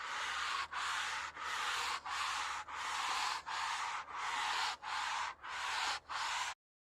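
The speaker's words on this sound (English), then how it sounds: "I'm just going to lightly use the magic eraser here" A magic eraser rubs on pop-up camper canvas in about ten quick, even strokes, each a close, loud scrubbing swish with short gaps between, then silence.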